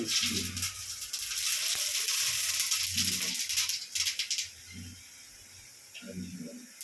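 Hot oil crackles and sizzles sharply as lentils drop into the pan for tempering, the hiss softening after a few seconds while a voice talks quietly underneath.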